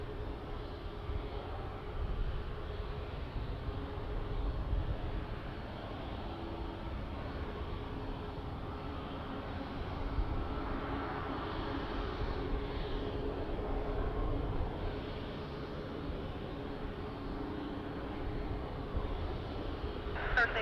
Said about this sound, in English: It's Delta 737-900 flying overhead,